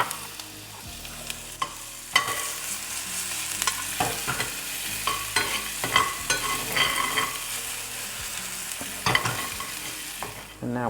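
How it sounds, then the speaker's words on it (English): Minced onion sautés in hot olive oil with a constant crackling sizzle, punctuated by repeated clanks and scrapes of a utensil stirring the pan at close range. "We've got a tablespoon of olive oil already heated. We're gonna throw in our minced onion."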